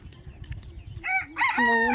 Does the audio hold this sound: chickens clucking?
yes